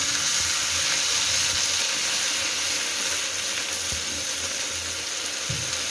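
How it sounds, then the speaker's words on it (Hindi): Golden-fried garlic ginger paste sizzles loudly in a pan just after a splash of water goes in, a steady hissing crackle with faint stirring scrapes. "अब इसके अंदर थोड़ा सा पानी ऐड करेंगे"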